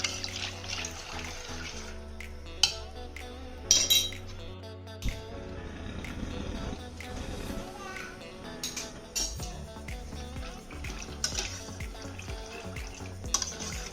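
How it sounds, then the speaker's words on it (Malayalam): A metal spoon stirs macaroni boiling in a pot for egg macaroni, making repeated clinks and scrapes against the pot over a watery bubbling, with someone talking and background music throughout. "നന്നായിട്ടൊന്ന് ഇളക്കി കൊടുക്കാം. ഇത് ഇടയ്ക്കിടയ്ക്ക് ഇളക്കണം"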